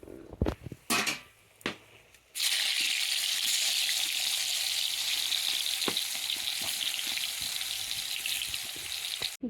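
Bitter gourd frying in oil gives off a steady, close sizzling hiss that starts abruptly after a few clanks and knocks of utensils, then runs continuously at moderate loudness with no talking.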